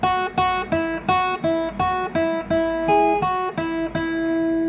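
On fingerstyle acoustic guitar, the melody of a song is picked as a steady run of about a dozen distinct notes, close and clear, with no voice over it.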